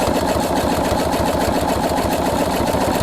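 A Husqvarna Viking sewing machine stitching a buttonhole, running alone up close with a fast, even mechanical chatter of needle strokes throughout.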